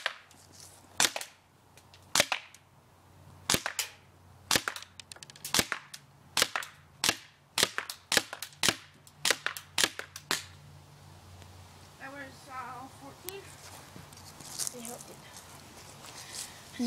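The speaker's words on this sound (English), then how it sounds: "Now we're doing the shooting test." A Powerwin 304 CO2 1911 air pistol fires about fourteen sharp, close shots at a target in quick, uneven succession, followed by someone talking.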